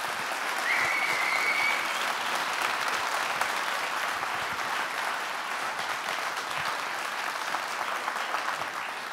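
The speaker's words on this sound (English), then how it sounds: "Big applause" Dense, sustained audience applause at the Neos Awards 2023 ceremony during Neos Con 2023, steady and full for about nine seconds, with a brief whistle rising above the clapping near the start.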